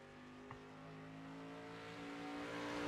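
A race car on a qualifying lap at The Bullring holds a steady droning engine note that slowly rises in pitch and volume, fairly distant and faint, with a brief click partway through.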